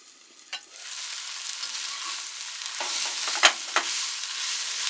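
Fiddleheads and leeks cook in a covered pan with a steady, close sizzle and soft crackle, a few sharper pops and stirring clicks rising near the end.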